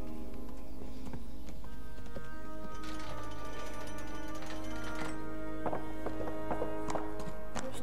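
Horse hooves clip-clop steadily on the ground in the medieval video game Kingdom Come: Deliverance, a close rhythmic trot with a sustained musical tone and background ambience.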